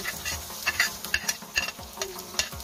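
Garlic and onion sauté in a pan for beef caldereta, a soft sizzle broken by quick scraping, clattering stirring strokes close by, with no talking.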